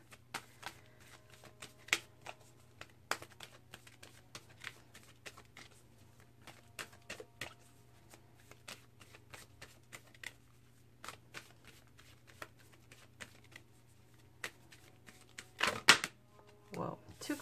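Wild Kuan Yin Oracle cards being shuffled by hand, quiet crisp riffling and slapping clicks in irregular bursts over a low hum, with a louder flurry near the end.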